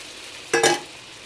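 Sugar syrup poured into a hot pan and stirred, giving a brief sizzling, stirring burst of about a quarter second over quiet kitchen background, with no talking.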